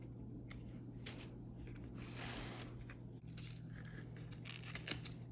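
Scissors snipping the rotted tip off a snake plant leaf, a few faint, close crisp cuts with soft rustling of the leaves in a quiet room.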